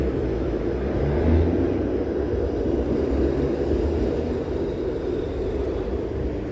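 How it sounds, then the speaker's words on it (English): A streetcar rumbles past in downtown Toronto near the lakefront, a low continuous roar that holds steady for several seconds at moderate distance, with no talk over it. "I thought I heard a train coming, but it was just that streetcar."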